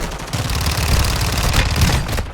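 Rapid automatic gunfire in Warzone 2 crackles in dense bursts, loud and close, running for a couple of seconds before cutting off.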